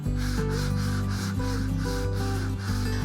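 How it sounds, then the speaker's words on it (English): Sandpaper roughing up the surface of a vintage suitcase gives continuous, rhythmic back-and-forth scraping strokes, close and steady, with a musical backing running underneath. "I continue to go around the suitcase and just kind of rough it up a little bit more"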